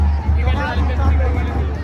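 A packed crowd at the Adhalgaon village temple fair (yatra) fills the air with a steady, loud hubbub of many overlapping voices and a low rumble beneath, with no single voice standing out.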